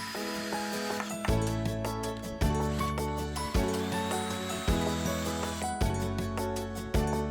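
A power drill whirs in repeated bursts, each a few seconds long, driving screws into pallet wood for a headboard, with a rising mechanical whine and clicks between runs.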